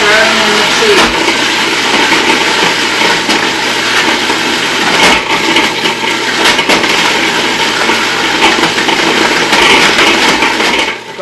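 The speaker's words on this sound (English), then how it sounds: "I am going to put that in with the food processor run. So I'm grinding it up" A food processor runs continuously, grinding pesto ingredients with cheese into a paste, a loud steady whirring drone with occasional knocks of chunks inside, lasting throughout.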